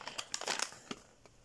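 A plastic bag crinkles and rustles as it is pulled from a delivered parcel during an unboxing, a short close burst of crackling that fades quickly, with no talking.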